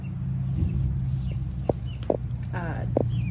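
Chickens of a favorite egg-laying breeding flock cluck in short bursts and a quick run of calls over a steady low rumble on a farm, with a person talking at times.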